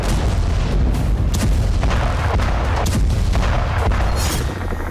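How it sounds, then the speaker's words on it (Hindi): A Ukrainian drone strikes a tank at the Feodosia oil depot, setting off a heavy, continuous booming roar with repeated blasts, recorded from several kilometres away. "ड्रोन टकराते ही जबरदस्त धमाका देखा गया।"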